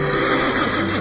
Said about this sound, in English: Philonicus the Thessalian brought Philip a horse named Bucephalus